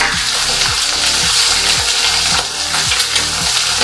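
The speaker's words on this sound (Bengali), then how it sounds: "এই যে পটল ভাজা হয়ে গেছে, মাছগুলো ভাজা হোক।" Fish pieces fry in hot oil in a pan in a home kitchen, a loud steady crackling sizzle with repeated scraping knocks of a spatula stirring them, no talking.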